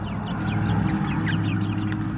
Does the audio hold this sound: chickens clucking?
yes